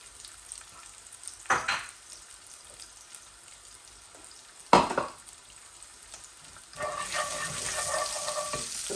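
Ginger and garlic hit hot oil for a tilapia curry, giving two sharp sizzling bursts a few seconds apart, then a steady, brighter frying hiss that continues to the end.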